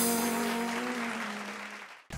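Dense, steady applause from a TV dance show studio audience for a contestant on Dance Odisha Dance Super Moms, with a sustained musical tone underneath, gradually fading before a sharp cut.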